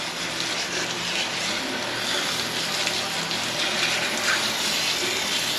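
Water gushes and sprays steadily as gear paint is rinsed off a part of a Jeep Wrangler YJ 4.0 being rebuilt. The broad hiss holds at a constant level for the whole stretch, with no voices over it.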